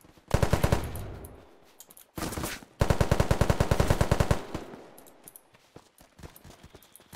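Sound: machine gun fire in the video game Unturned

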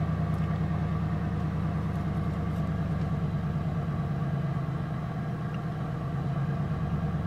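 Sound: Ford Crown Victoria engine idling with slight stumble

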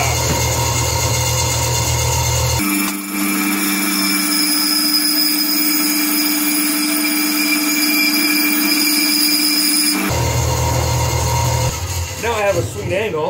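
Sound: bandsaw cutting wood

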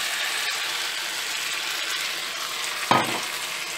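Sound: beef stock added to fried beef pieces, sizzling and mixing

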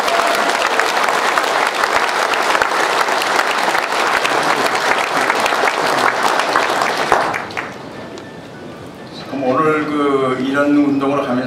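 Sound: audience applause at a launch ceremony

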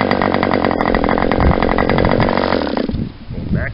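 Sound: Enya 40X model engine starting up

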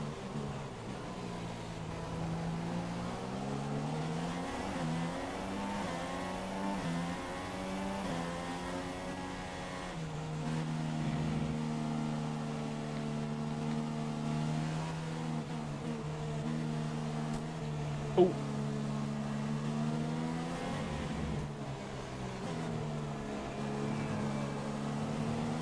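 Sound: F1 race cars overtaking in video game F1 2016, Shanghai

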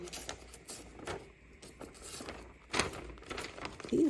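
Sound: cutting paper with scissors

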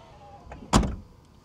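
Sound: Tesla power trunk lid closing

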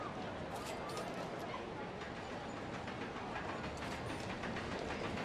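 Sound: roller coaster train running in Rollercoaster Tycoon World video game

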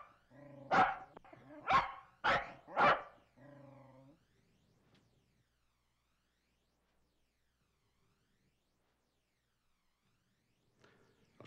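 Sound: dog barking

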